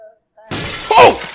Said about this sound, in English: I guess I can just break windows with my mind